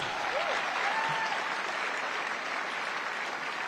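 A large crowd at a CPAC political speech applauds steadily and loudly, a continuous wash of clapping from start to finish with no voices on top.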